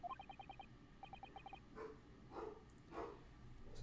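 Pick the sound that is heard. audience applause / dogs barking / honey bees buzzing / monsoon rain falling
dogs barking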